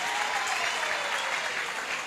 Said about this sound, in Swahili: Pigia gavana makofi.